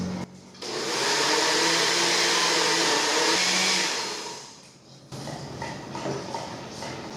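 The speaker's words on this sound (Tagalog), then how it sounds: "Tapos, i-blend na natin until maging smooth." A blender whirs through mango cheesecake batter with eggs, giving a loud, steady motorized roar for about four seconds that winds down, followed by quieter clattering handling sounds.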